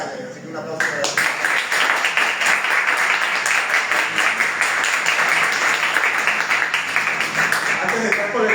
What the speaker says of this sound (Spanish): así que un aplauso para él